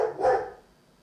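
A single short dog bark sounds close and fairly loud, then fades into quiet.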